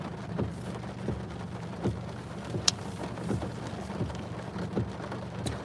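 Rain falling while driving in a car, soft steady patter with scattered drops and a few sharper taps on the vehicle, no talking.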